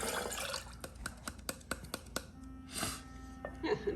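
Liquid amaretto and sour mix pours into a cocktail shaker in a home kitchen, a run of distinct drips and splashy clinks in an uneven rhythm, with a brief gush near the end and faint voices and room noise around.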